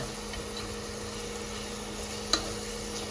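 Onion frying in a pan for egg rice, a steady close sizzle with a faint hiss and one brief clink of a utensil, no voices.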